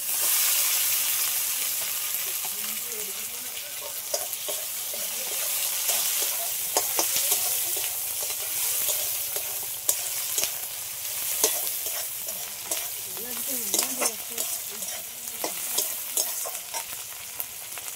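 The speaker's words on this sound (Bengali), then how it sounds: "পেঁয়াজটা একটু হালকা করে ভেজে নিয়েছি, এবার টমেটো কুচিটাও দিয়ে দেবো" Chopped tomato and lightly fried onion sizzle loudly in a pan, with frequent scraping stirs and spatula clicks over a constant close crackling hiss; no one speaks.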